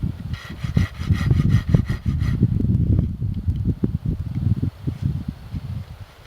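Wood is sawn by hand to cut notches for a bushcraft shelter, with rapid rhythmic back-and-forth rasping strokes, close and fairly loud, slowing into irregular scraping strokes, with no talk.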